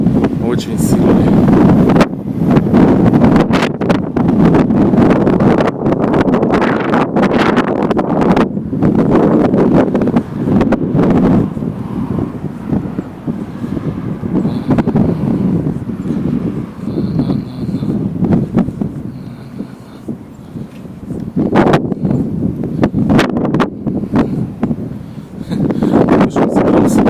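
Very strong wind batters the microphone in loud, continuous gusts with rough roaring surges, easing briefly near the middle before building again. A voice talks in places under the gusts.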